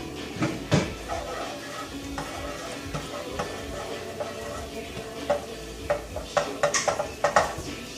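Garlic sizzles in warmed oil in a pan while being stirred, with a steady frying hiss and intermittent scraping clinks of a utensil against the pan, growing busier near the end.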